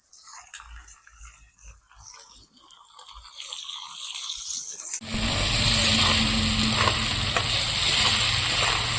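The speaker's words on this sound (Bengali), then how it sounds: "এবার আমি এটা আর দু তিন মিনিট একসঙ্গে ভেজে নেব" Carrots, beans and capsicum start frying together in a pan with a sudden loud, steady sizzle that takes over from quieter kitchen sounds with a few soft knocks, close by and without talk.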